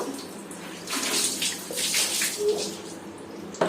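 Water pours and splashes as a baby's body is washed at bath time, an uneven wash of splashing rising and falling with a short knock near the end, close by.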